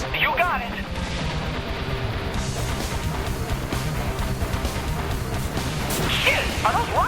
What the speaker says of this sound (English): Are those rockets?